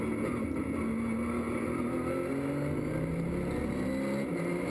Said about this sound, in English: Here we are, driving with Perraudot.